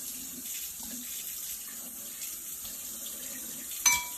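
Tap water runs steadily into a kitchen sink to rinse a spatula while making eggs and toast, a close, even hiss that ends with a brief clatter.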